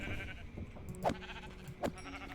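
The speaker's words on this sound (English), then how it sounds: "Hello, sheep." Two sheep bleats in Minecraft, each short and fairly close, rising clearly above a steady game background of music and ambient hum, with no talking.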